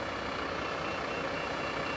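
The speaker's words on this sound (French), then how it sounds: "Vous voyez, on entend un bruit de fond l'alarme." An alarm sounds steadily in the background at a fire service call on a road accident scene, a constant, moderately loud drone with no speech.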